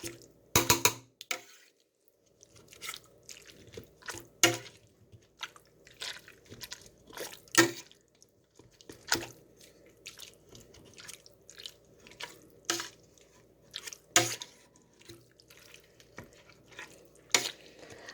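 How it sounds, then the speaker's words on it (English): A potato masher works through a pot of cooked apples with a cinnamon stick, giving soft, wet squelches and drips in an irregular rhythm of close, moderately loud pushes separated by quiet gaps. "You just run the masher down into it."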